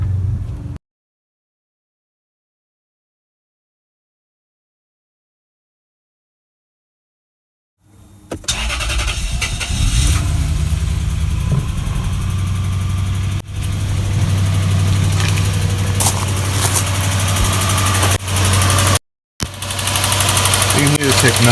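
A Lexus GS430 V8 cranks and fires after silence, then settles into a steady, loud idle with a rumbling low drone and a faint repetitive tick beneath it; a brief dropout occurs near the end.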